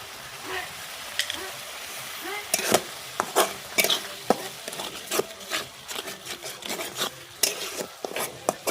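Rohu fish with mustard paste being turned and stirred in a pan, repeated close scrapes and knocks of a spatula against the pan over a faint sizzle, no talk.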